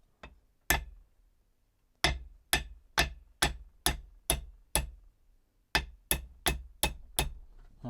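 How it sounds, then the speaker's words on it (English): A hammer strikes metal while repairing a vice, likely driving a tapered pin through it: about fourteen sharp, ringing blows, first one alone, then a steady run of seven and a faster run of six, loud and close. "The hammer."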